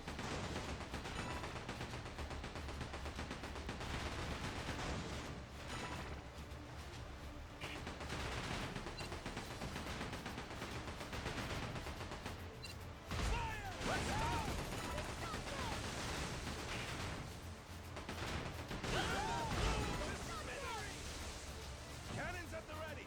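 Repeated booming cannon blasts and gunfire crackle through a busy pirate ship battle in the video game Like a Dragon: Pirate Yakuza in Hawaii, with voices and music layered over the action.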